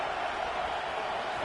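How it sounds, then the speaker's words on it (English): Steady roaring stadium crowd noise in the NCAA 25 college football video game, a dense, loud, unbroken wash of cheering with no single voices standing out. "It is getting loud as this crowd tries to help its defense."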